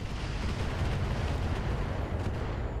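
A Narc missile launcher fires in the mech game Roguetech, giving a dense, rumbling blast of launch noise that holds steady and loud for a few seconds.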